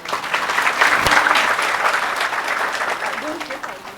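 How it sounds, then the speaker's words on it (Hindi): A group claps for a child who did well, a lively burst of applause from a room of people, close and steady for a few seconds before easing off. "इसीलिए ताली बजाओ भाई"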